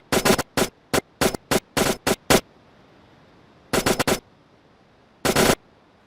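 A turret fires at the player in a motion-controller video game. Loud, rapid bursts of automatic gunfire come in a quick cluster, then two shorter volleys break up stretches of quiet electronic hum.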